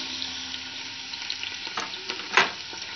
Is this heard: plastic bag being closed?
no